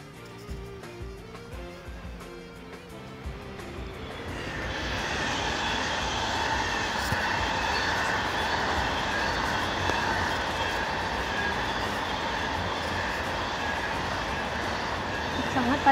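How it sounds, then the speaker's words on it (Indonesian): A long train rumbles past with a steady roar and rising hum building after a few seconds, in Aarau, Switzerland, while a voice speaks briefly at the start. "itu biasanya kereta seperti itu langsung ke airport"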